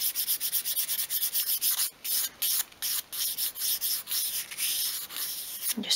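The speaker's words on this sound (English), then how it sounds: "just use fine grade sandpaper to tidy that bottom edge." Fine grade sandpaper rubs along the bottom edge of a small wooden 1/12th scale bed part, giving a steady run of quick, close scratchy strokes that break into short separate passes partway through, with no talking.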